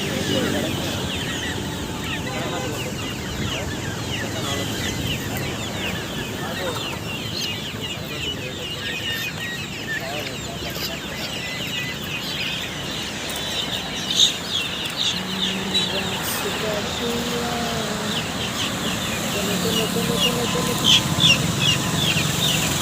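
Saguna desi chickens clucking continuously in a noisy market yard in Hyderabad, with voices mixed in and the din growing slightly louder toward the end.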